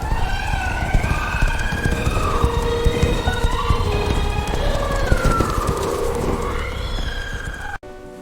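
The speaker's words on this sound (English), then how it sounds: "The herd rushed down the steep bank." A herd rushing down a steep bank is rendered as loud, continuous galloping hooves with repeated whinnies layered over the pounding, ending abruptly in a cut to quiet.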